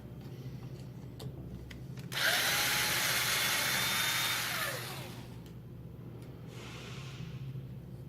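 A power driver backs out M3 and M4 screws from an Arrma Granite 4x4 RC car, one close, loud whirring burst lasting a few seconds before fading back to quiet room tone.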